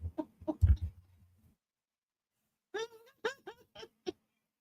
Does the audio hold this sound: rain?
no